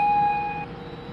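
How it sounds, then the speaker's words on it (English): A steering gear hydraulic filter clog alarm on a ship sounds as a steady electronic tone for about half a second and then cuts off, leaving a continuous low machinery hum from the engine room. "To test this alarm, we can easily disconnect the power plug and wait for the filter clog alarm."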